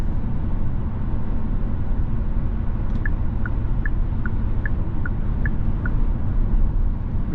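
Inside a moving 2024 Hyundai Sonata N-Line, a steady low rumble of wind and tire road noise fills the cabin, with a brief series of faint evenly spaced chimes partway through.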